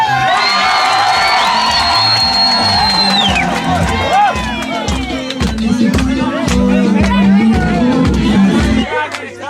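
Wedding guests at a Christian ceremony shouting, whooping and ululating with rhythmic clapping, a loud, dense crowd roar with high excited cries, voices babbling throughout.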